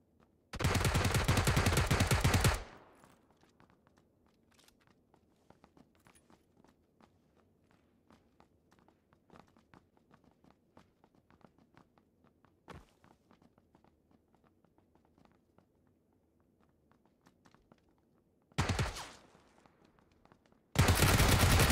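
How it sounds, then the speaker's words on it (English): PUBG gunfire on Xbox One X, loud dense bursts of automatic fire at the start and end, with long stretches of quiet footsteps and scattered faint shots in between. "luckily I was able to take that guy out with shoulder fire just enough"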